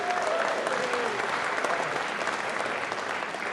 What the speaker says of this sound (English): Let's give Peggy a big round of applause for all her work.